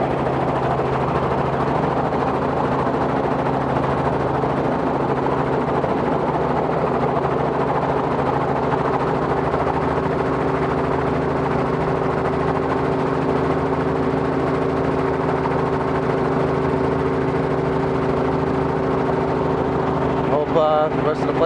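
An aircraft engine with trouble holding its RPMs drones steadily through a maintenance check flight, a constant hum with steady tonal lines and faint variation throughout, with no clear talk over it.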